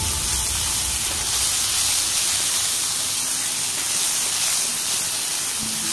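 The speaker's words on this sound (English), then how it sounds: "I'm adding in the green chilies. We sauté them till they too get soft." Green chilies and soft onions sauté in a hot pan for Goan shark fish cutlets, giving a loud, continuous sizzling hiss that stays even throughout.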